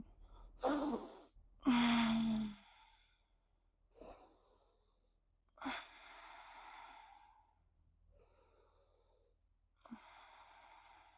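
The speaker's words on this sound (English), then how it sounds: "Can you take 3 more breaths here?" Deep breaths taken while holding a pose in a yoga flow, heard as several separate breathy inhales and exhales with quiet pauses between, close and fairly soft.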